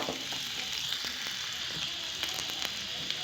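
Onions and potatoes dropped into hot oil for a chickpea curry give a steady, close sizzle and frying hiss that continues evenly without speech.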